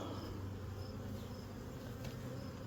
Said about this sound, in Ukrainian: Трохи зігнав бджіл